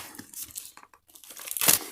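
Plastic packaging being torn open during an unboxing, a few crinkling rips building to a louder, close tearing burst near the end.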